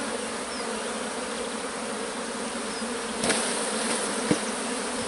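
A dense, steady buzzing of many honey bees around a hive fills the air nearby, with a couple of brief knocks partway through.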